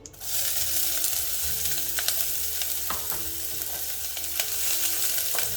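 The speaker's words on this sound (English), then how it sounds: "I put very little oil just to coat the bottom. We're going to add the onion." Onion hitting a little oil coating the bottom of a small pot, a sudden loud hiss that settles into a steady close sizzle with occasional light crackles and scrapes.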